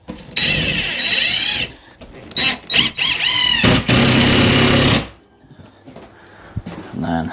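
A power drill drives big screws into wall joists while furniture goes up in a shed, giving two long loud whirring bursts separated by short choppy pulses, then trailing off into quieter handling noise.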